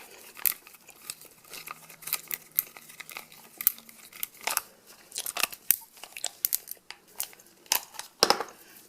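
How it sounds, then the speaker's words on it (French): Scissors snip and crunch through material while a homemade compressed-air blowgun is being built, giving a run of short, sharp cuts and crinkles with no talk, fairly close. "je dirais plutôt que vous faites avec des ciseaux"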